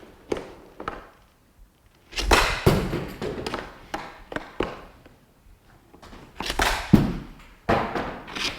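A hockey puck is fired in a Kucherov-style delayed shot during a shooting session: sharp stick slaps and thuds ring out in irregular bursts, with clacks and scrapes between them and no talk.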